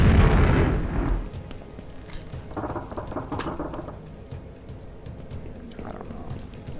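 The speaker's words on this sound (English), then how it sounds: "It's just like another homing rocket launcher." Rocket explosions from a homing rocket launcher in Quake: a loud, deep boom opens, then decays into a rumbling tail while smaller muffled thuds and pops follow at a distance.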